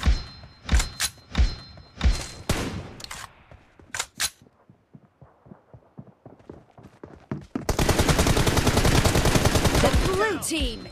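Gunfire in the mobile shooter BGMI: several sharp single shots in the opening seconds, scattered thuds after, then a loud sustained burst of automatic fire near the end, close and dominant.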